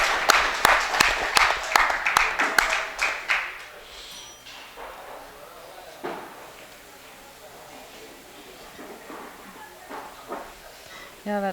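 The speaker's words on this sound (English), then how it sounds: "We're going to see a round of applause after he makes this 10 ball" Audience clapping in a 10-ball pool match hall, a burst of quick close claps that fades after about four seconds into quiet room tone with sparse talk and small knocks.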